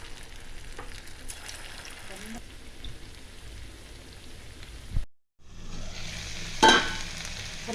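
Chicken frying in oil for a Tamil-style chicken fry, a dense crackling sizzle that runs steadily, drops out briefly, then returns louder with a sharper burst of spattering.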